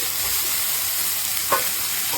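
Sweet paprika sizzles in hot oil for shakshuka in a Netherton Foundry pan, a steady close frying hiss with one soft stir partway through.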